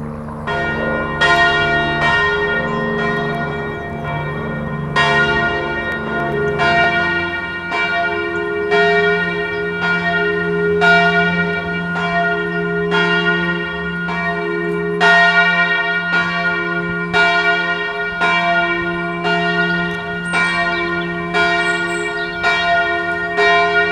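Church bells swing and ring in the Muri church tower, several bells of different pitch clanging in overlapping rhythmic peals, sustained and resonant, with no voices.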